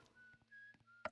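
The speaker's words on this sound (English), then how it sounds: "Thanks, we know you're whistling." A player's character in a Roblox pizza-place game whistles a short, bright tune, with thin sustained notes against a faint background of game sounds.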